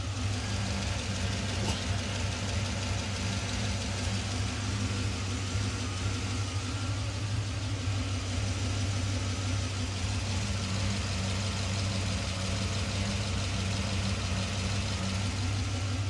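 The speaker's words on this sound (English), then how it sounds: "put the microphone next to the engine. I mean, it's a brand new crate engine" A brand-new crate engine in a 1952 Chevrolet Thriftmaster pickup idles steadily and smoothly at close range, a constant low rumble with no voices.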